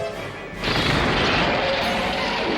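A heavy crash as a giant monster is smashed into a mountain in a Godzilla Island scene, a sudden loud impact that swells into a sustained rumbling roar of rubble and debris.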